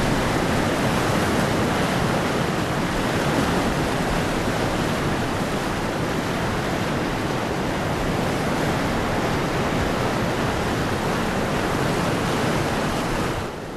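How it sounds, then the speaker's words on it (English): Springs feeding the Orontes River rush in a dense, continuous roar of flowing water, loud and unbroken from start to finish with no voices. "Below are the springs that give life to the Orontes River."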